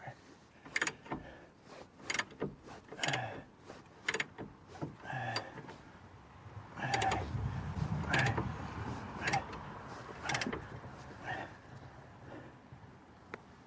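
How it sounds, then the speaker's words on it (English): Hand ratchet clicking and clanking while loosening a lower ball joint nut on a 1996 Ford Mustang, heard as irregular bursts of metallic clicks with tool knocks and a brief heavier creaking strain midway. "let's get a 1/2 inch ratchet and we'll go to work here"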